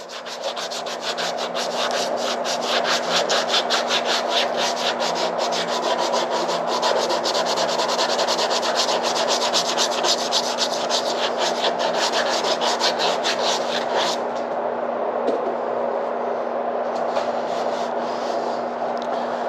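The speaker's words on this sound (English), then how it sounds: "As you can see, I'm just sitting there scrubbing away on that." Steady abrasive scrubbing of tin foil against a rusty pipe treated with mystery oil, a continuous close rasping rub that runs loud and even for most of the stretch before easing near the end, with no talking.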